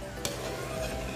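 A pot of suman moron mixture simmering on a stove, with a soft continuous bubbling and faint sizzle close by, steady throughout with a brief clink near the start.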